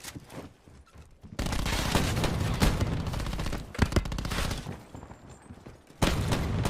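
Loud, sustained automatic gunfire in a video game, dense continuous bursts with a brief pause near the start and another near the end, heavy and close.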